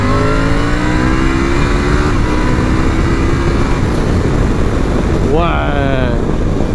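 A Triumph Tiger 900 motorcycle engine drones steadily up close, then revs sharply near the end, with wind buffeting the microphone and someone talking over it.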